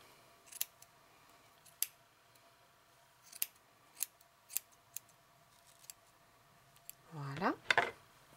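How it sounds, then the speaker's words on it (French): Scissors snip through yarn threads while crocheting a shawl, a few crisp isolated clicks spaced through a quiet room, ending in a louder rustle of handled yarn. "Je vais tenir donc mes fils bien correctement et je vais couper ici au milieu."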